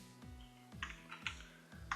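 Keys on a computer keyboard are struck to enter shortcuts while working in a task manager, giving four evenly spaced pairs of crisp clicks over a low steady hum, close and clear with no talk.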